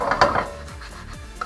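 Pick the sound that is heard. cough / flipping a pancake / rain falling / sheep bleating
flipping a pancake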